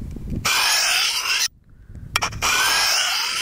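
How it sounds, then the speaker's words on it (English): Kitchen knife honed on a ceramic rod with the blade held at too shallow, flat an angle, giving two long, soft rasping strokes separated by a short pause, close and fairly quiet. "this is what it sounds like when your angle is too shallow or too flat against the length of the"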